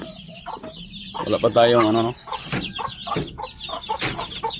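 Backyard chickens cluck and squawk up close, a loud drawn-out call followed by scattered clucks, while someone speaks briefly among them.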